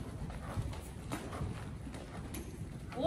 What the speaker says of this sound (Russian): мы едем рысью